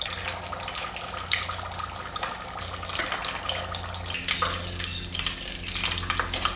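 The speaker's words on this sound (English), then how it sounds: "let's fry our second batch" Panko-crumbed chicken samosas frying in hot oil, a steady close sizzle and bubbling with scattered crackles throughout, no voices.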